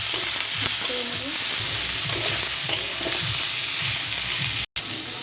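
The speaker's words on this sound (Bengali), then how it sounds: "কয়েকটা কাঁচামরিচ দিয়ে দেবো। দেওয়ার পরে এগুলো আমি একটু ভেজে নেবো।" Green chillies with turmeric fry in hot oil alongside potato and eggplant pieces, a loud steady sizzle with a utensil stirring through it close by and no talk.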